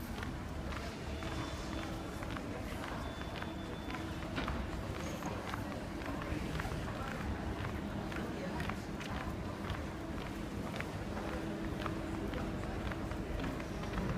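Steady footsteps walking the length of a train station platform on a hard floor amid a busy, echoing crowd murmur and low background rumble.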